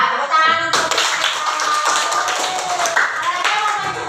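Classroom applause with hands clapping in a dense, loud burst close by that continues for several seconds, with voices mixed in.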